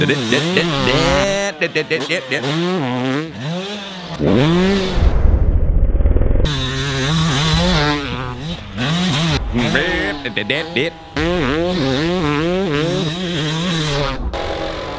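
A two-stroke engine revs hard and close, climbing and falling through repeated loud, wailing revs with a short lull in the middle.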